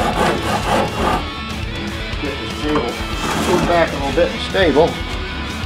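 Coarse side of a Shinto rasp shaping a wooden guitar neck, steady scraping strokes in quick repeated rhythm, up close, under someone talking throughout.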